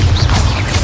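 Bombarda spell explosion in the video game Hogwarts Legacy, a single loud, close, rumbling blast that fills the short moment.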